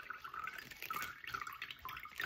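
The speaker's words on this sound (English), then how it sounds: "That's a lot of coconut water." Coconut water pours from a freshly opened coconut in a short, uneven splashing stream with bubbly gurgles and drips.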